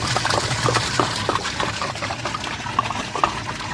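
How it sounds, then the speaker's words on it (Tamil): Water pours steadily into a large biryani cooking pot, a continuous splashing gush with faint clinks of metal, close and fairly loud. "தண்ணி ஊற்றியாச்சு."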